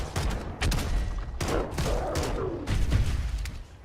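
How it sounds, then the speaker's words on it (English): Pistol fire and grenade blasts in the game Crimson Desert: a quick string of loud, punchy shots and heavier booms in close succession, with a faint voice barely present. "Light him up with the pistol and grenades,"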